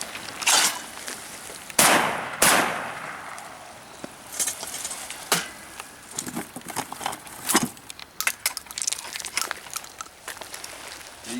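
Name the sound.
12 gauge over/under shotgun firing shells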